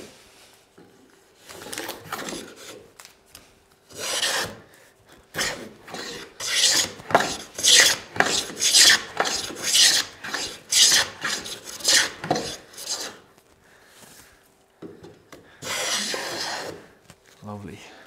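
Wooden hand plane shaving a small scrap of walnut, giving a series of loud, rasping strokes in bursts with short pauses between, close to the listener.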